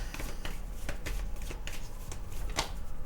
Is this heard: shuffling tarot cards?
yes